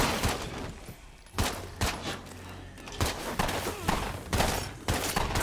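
Gunfire in the zombie survival video game State of Decay 2 crackles in repeated loud bursts, shots spaced irregularly over a constant noisy background.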